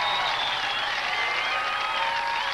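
A studio crowd cheers and applauds for a competitor named Rico at an American Gladiators event, a dense, steady roar of claps and shouts with no pauses.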